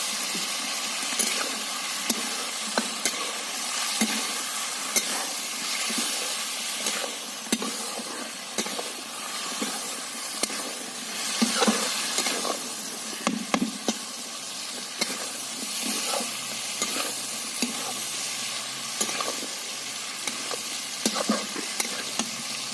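Potatoes frying in a pan with capsicum are stirred steadily, a continuous close sizzle overlaid with scraping utensil strokes and occasional clinks, with no voices.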